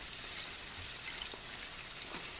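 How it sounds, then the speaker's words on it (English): Cold tap water runs steadily over purslane in a kitchen sink, a soft continuous hiss of flowing water with a few faint splashes. "we're going to run cold water on it just to get the extra salt out."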